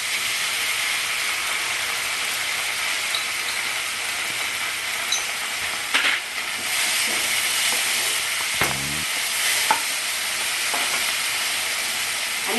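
Chili paste and cumin paste fry in a pan for an omelette curry, giving a steady close sizzle with a few scraping stirs and clatters partway through, no voices.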